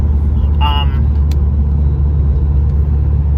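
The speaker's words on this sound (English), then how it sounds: "This new diverter valve sounds different, that's for sure." A turbocharged MK4 car fitted with a new RKX diverter valve idles loudly and steadily up close with a deep, constant engine rumble, and a short tonal chirp cuts in briefly near the start.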